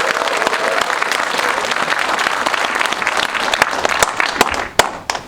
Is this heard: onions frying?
no